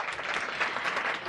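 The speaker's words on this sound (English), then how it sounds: "so give her a round of applause." A crowd claps for a chocolate company co-founder at a start-up pitch night in The Hague, the dense applause loud and close and continuing unbroken for a moment with no talking.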